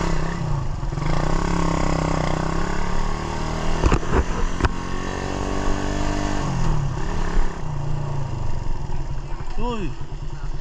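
Suzuki Raider 150 motorcycle engine running rough and misfiring nearby, a loud, continuous uneven drone with a few sharp knocks, partly under people talking.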